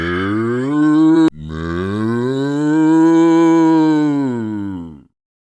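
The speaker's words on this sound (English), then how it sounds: "moo" A cow gives one long, loud, close moo with a rising then falling pitch, cut by a brief click near the start before fading out.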